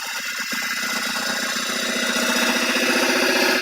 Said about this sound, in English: just using an ordinary tool gouge for hollowing out